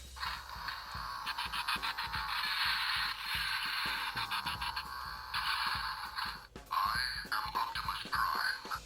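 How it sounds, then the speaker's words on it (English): Lever on a Transformers Dark of the Moon Ultimate Optimus Prime toy weapon being pulled, setting off a loud electronic mechanical sound effect with rapid clicking pulses that runs steadily, then briefly cuts out and resumes. "when you pull this lever, this is also one of the mech tech features"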